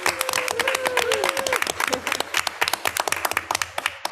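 A cheering section claps and applauds for a family and consumer science teacher at a school board meeting, dense rapid clapping from a small crowd that thins into scattered claps, with a few whoops early on.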